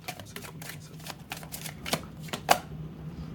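Tarot cards being shuffled by hand, a run of quick, papery riffles and flicks in an uneven rhythm, close and clear, with one sharper snap near the end and no talking.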